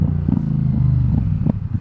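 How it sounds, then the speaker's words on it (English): A Yamaha MT-07 motorcycle with an Akrapovic full exhaust system rumbles steadily at close range, its low engine note holding a constant loud drone with small surges in revs throughout. "MT-07 with Akrapovic exhaust, full exhaust, not a slip-on. These bikes sound so mean."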